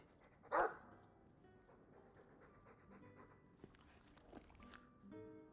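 A dog in the video game Dragon Age 2 gives one short, sharp bark-like burst near the start, followed by quiet panting and soft movement sounds over faint ambient background.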